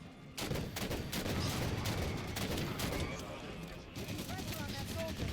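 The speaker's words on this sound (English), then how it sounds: "Turrets on and firing!" Automated turrets open fire on Prometheans in the Halo 5: Guardians co-op campaign, a dense, continuous rattle of rapid shots that runs almost without a break and dips only briefly near the end, with other gunfire and game noise mixed in.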